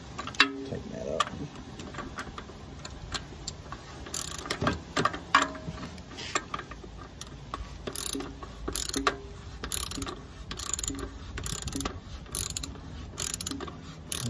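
A 27 mm socket wrench ratchets as it tightens the oil filter cap on a 2019 Kia Sedona, giving a close series of quick mechanical clicks in bursts with short pauses.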